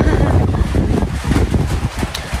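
Strong gusty wind before rain in a Nepali village in the afternoon, loud buffeting roar hitting the microphone in close surges throughout.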